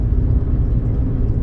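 A car passing close by, a loud, steady low engine rumble and road whir filling the moment with no voices.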